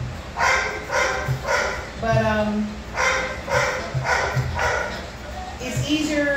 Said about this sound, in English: That's why he barking.